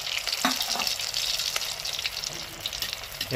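Paneer kofta balls frying in hot oil make a constant, close crackling sizzle, with a few brief bubbling bursts and faint clinks throughout.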